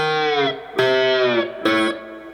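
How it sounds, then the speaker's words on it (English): Slide guitar plays the lead line from a song: three sustained notes that glide between pitches, each entering with a bright attack, loud and close with no talking. "All right, with the slide, it sounds like this."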